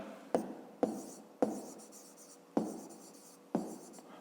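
A pen writes on paper while a fifth-grade maths exercise is worked out: five crisp, separate stroke bursts, close and quiet, each fading quickly into near silence.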